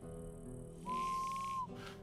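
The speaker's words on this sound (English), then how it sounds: "right now we're gonna use a whistle." In the video game Gothic Remake, a single clear whistle sounds as one sustained steady tone for under a second, then cuts off, over a quiet game background.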